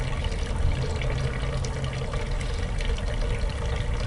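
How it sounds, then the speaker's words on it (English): Homebrew wort runs in a steady, continuous pour back into a brew kettle over the grain bed during an all-grain mash and batch sparge, heard up close and loud with no voices. "let it run right back into the brew kettle, and then gently pour this back on top as not to disturb the grain bed again"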